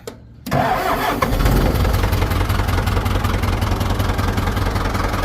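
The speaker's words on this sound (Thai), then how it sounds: "เครื่องสตาร์ทบึ้ม เดียวติดนะฮะ" A Ford 5000 farm tractor's diesel engine cranks briefly and fires on the first try, then settles into a loud, steady, rumbling idle close by.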